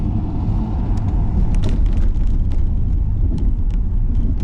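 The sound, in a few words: Mercedes CLS55 AMG car accelerating hard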